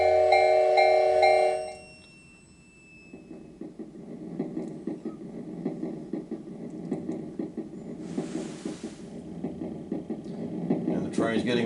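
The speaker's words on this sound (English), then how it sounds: "And now we'll add the train." Train sound effect from a Yamaha PSR E273 keyboard: after a brief tonal note fades, a rumbling, rhythmic chugging builds steadily louder, suggesting an approaching train, with a short hiss burst midway.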